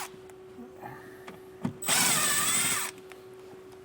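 A power screwdriver drives out Phillips screws from a hitch-area panel on a 2025 Kia Telluride, one loud whirring burst of about a second near the microphone against a quiet background.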